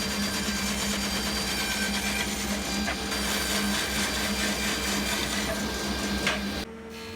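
Oak boards being cut to rough length with a steady, loud machine drone and whine running continuously, then cutting off abruptly near the end.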